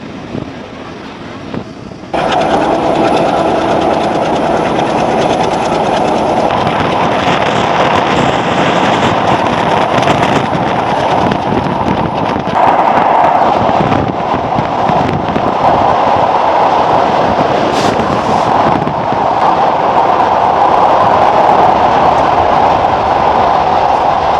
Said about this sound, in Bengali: এটা হচ্ছে সুন্দরবন এক্সপ্রেস যেটা ঢাকা থেকে খুলনাগামী মুহূর্তে চলে এসেছি পদ্মা স্টেশনে